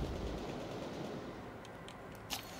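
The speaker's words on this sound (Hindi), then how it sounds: "उधर ही हो रही है फायरिंग" Gunfire in the vampire battle-royale game Vampire the Masquerade Bloodhunt: faint, distant shots and a few sharp cracks over a steady low rumble, with one louder report near the end.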